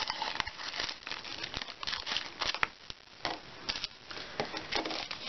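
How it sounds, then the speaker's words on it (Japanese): Scissors cut through thin Daiso origami paper in a run of close, crisp snips and rustling crinkles, fairly loud and steady with no talking. "ハサミで切ろう。"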